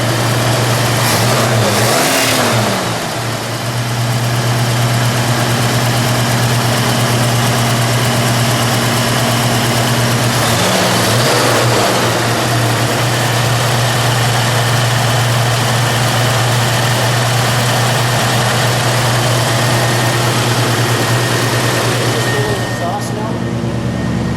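A yellow 1969 Mercury Cougar Eliminator idles steadily and close by, its low engine hum holding firm throughout, with a couple of brief swells and a voice speaking over it at moments.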